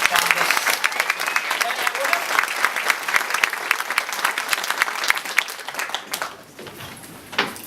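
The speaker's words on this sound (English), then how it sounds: "please a round of applause for all three of our finalists" An audience at a New Zealand museum awards ceremony applauds the finalists, with loud, dense clapping that carries on steadily before it thins and tails off near the end.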